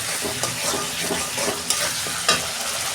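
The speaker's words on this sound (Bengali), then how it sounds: "এই যে আমি জল দিচ্ছি।" Water added to frying spice paste for doi katla sizzles in a pan with steady crackling and hissing, plus occasional stirring scrapes, close and constant throughout.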